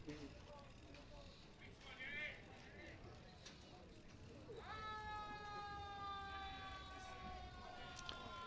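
Fire truck and ambulance sirens wail at a distance near a local pool beside a fastpitch softball game, a steady rising and falling tone under crowd murmur that grows more prominent midway.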